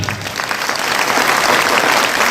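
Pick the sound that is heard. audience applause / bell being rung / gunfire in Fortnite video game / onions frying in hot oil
audience applause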